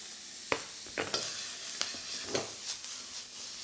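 Onions frying in oil in a wok for Hong Kong style sweet and sour pork: a steady close hiss and sizzle, broken by several sharp clinks and scrapes from stirring.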